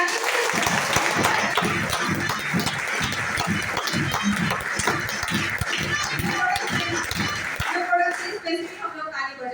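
An audience at a business plan meeting in Dombivali claps loudly and rhythmically in a dense, sustained burst. The clapping breaks off near the end, where a voice speaks.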